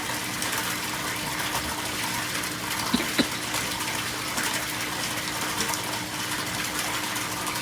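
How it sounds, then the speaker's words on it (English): A steady, fairly loud rush of water drains from a home aquaponics system, an unbroken gushing flow lasting throughout, with a couple of faint knocks midway. "it's really draining now"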